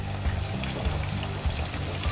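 Salmon deep frying in hot oil gives a steady crackling sizzle with soft low bubbling throughout, close and moderately loud, with no voices.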